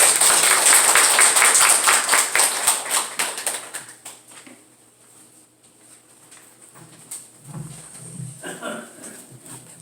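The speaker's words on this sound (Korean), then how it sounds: "우리 큰 박수로 맞아주시면 고맙겠습니다." Audience applause welcomes a pastor to the stage at a church school gathering: dense, loud clapping at the start that thins out and fades within about four seconds, followed by quieter room noise and faint shuffling.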